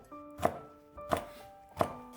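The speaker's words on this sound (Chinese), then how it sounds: "2个小米辣切成圈" A knife slices small chili peppers into rings on a board, three crisp, evenly spaced chops close up, each with a short ringing knock and no voices.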